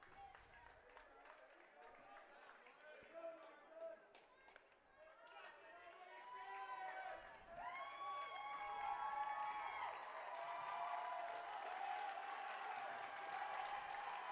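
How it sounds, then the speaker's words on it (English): A baseball crowd at a Glacier Range Riders home game against the Billings Mustangs breaks into applause, swelling from scattered clapping into a sustained roar beneath a commentator's continuous play-by-play. "The tension cut by every Range Rider crowd member applauding"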